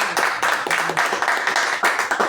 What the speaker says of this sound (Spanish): Lourdes Barbosa, también un aplauso.